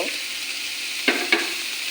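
Beans and carrots fry in a pan with a steady low sizzle, broken by two quick stirring scrapes close together near the end of the short stretch.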